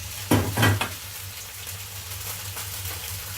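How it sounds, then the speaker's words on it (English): Firmer vegetables and potatoes dropped into a hot pan for a frittata, two loud bursts of sizzling as they land, then a steady quieter frying hiss with light pan clatter. "I'm just going to put my firmer vegetables and my potatoes in"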